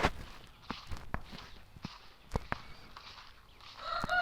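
Chickens cluck and five chicks peep softly nearby, with scattered footsteps and rustling on the ground, and a few brief sharper calls.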